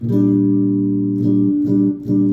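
A muffled, dark electric guitar with its tone knob rolled all the way down plays sustained chords with a soft, rounded tone lacking bright edge, with a few chord changes.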